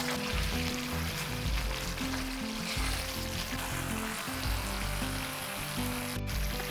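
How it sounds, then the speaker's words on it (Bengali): Spice paste sautéing in oil over a low gas flame for a vegetarian poppy-seed curry, a steady soft sizzle and crackle that holds close and even throughout. "এরপরে গ্যাসটাকে একটু লো ফ্লেমে রেখে মশলাটাকে কষিয়ে নেব।"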